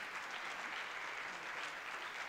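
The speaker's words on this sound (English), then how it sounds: "Big applause for Constantine." An audience on the main stage of a tech conference applauds a speaker with dense, even clapping from many hands, filling the room loudly and continuously from start to end.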